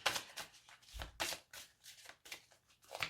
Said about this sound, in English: let me just draw you an angel message card from the Doreen Virtue deck, if you can see that, and just give them a quick shuffle